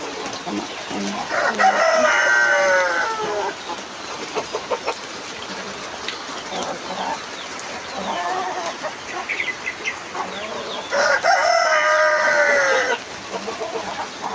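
Chickens on a flood-prone farm during heavy typhoon rain, with a rooster crowing loudly twice at the start and end amid scattered clucking, while someone speaks intermittently in between.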